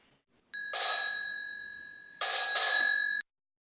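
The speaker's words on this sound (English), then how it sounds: "The doorbell." A doorbell in a Paris flat rings with a bright electric tone, one long ring followed by a shorter double ring, close and clear with nothing else heard.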